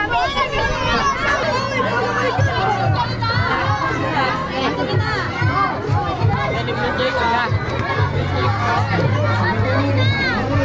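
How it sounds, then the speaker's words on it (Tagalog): Dense crowd of children and adults shouting and cheering at a basketball league parade in a village, a continuous loud hubbub with overlapping voices and low rumbling beneath throughout. "Sigawan sila."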